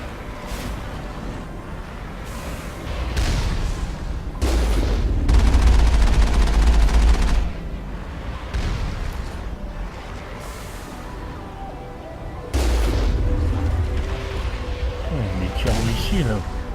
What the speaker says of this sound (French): Les tirs en missile